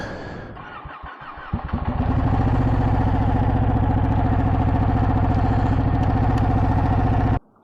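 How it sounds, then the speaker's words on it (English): A Ducati 899 Panigale 898cc L-twin motorcycle engine cranks with a starter whir, catches, and settles into a loud, steady, lumpy idle close by, then cuts off abruptly. "So what do you say we start this thing up and see how it sounds?"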